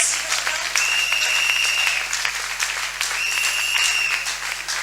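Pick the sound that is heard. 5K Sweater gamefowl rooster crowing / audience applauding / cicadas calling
audience applauding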